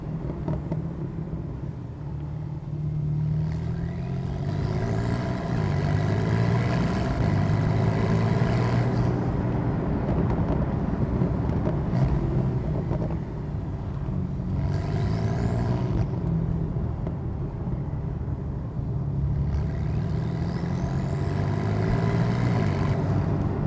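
A Porsche 991.2 Carrera GTS is driven in sport mode. Its engine gives a steady, loud drone that swells and eases through the run, heard from inside the car with no talking.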